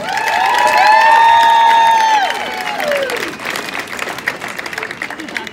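A storytelling-event audience claps and cheers loudly together, with a bright whistle-like whoop rising over the applause before it thins out into scattered clapping.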